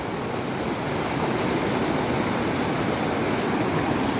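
The Yamuna river flows over large stones near Yamunotri, a dense, steady rush of water, loud and close, unbroken for the whole stretch with no voices.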